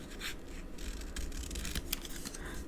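Scissors trimming excess paper for a twisted ribbon greeting card, a close, steady rasp of cutting with faint scratchy snips over a soft background hiss, no voices.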